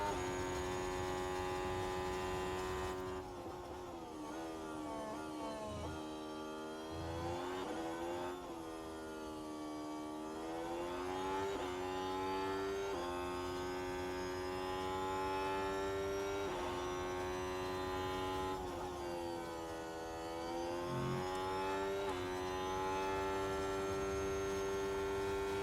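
Onboard Formula 1 car engine from the F1 Manager 2024 racing game, a steady high-pitched whine rising and falling with revs through gear changes and brief dips, loud and continuous with no talking.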